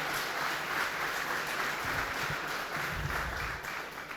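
Church congregation applauding together, a steady broadband wash of clapping that holds evenly throughout at moderate, room-filling level.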